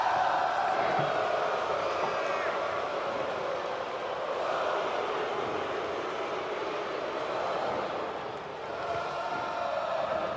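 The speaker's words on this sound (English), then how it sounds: "crowd here inside Antonio, Texas is singing along with Shinsuke Nakamura" An arena crowd in San Antonio, Texas sings along for Shinsuke Nakamura in WWE 2K25, a steady, dense roar of massed voices filling the space throughout.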